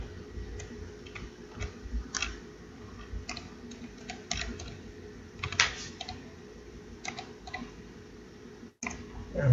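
A computer keyboard clicks as a password is typed in, with irregular keystrokes and a few louder key hits, close and fairly quiet against a faint background hum.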